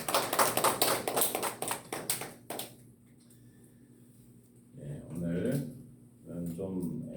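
Welcoming applause for a child named Hyeonseo at a Saturday morning church service: a short burst of congregation clapping lasting about two and a half seconds, followed by a quiet pause and then a voice speaking.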